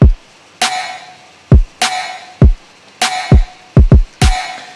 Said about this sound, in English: I began with a typical trap pattern